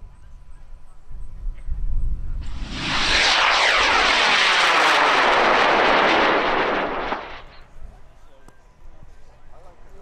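High power rocket launch of an 8-foot, 6-inch-diameter rocket on an Animal Motorworks L777 White Wolf motor: a loud, sustained roaring burn of about five seconds, rising sharply and then cutting off, with faint crowd noise before and after.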